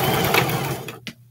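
A sewing machine runs a short burst while stitching a 5/8 inch seam on shorts, a close, busy whir that slows and stops, followed by a brief click and quiet.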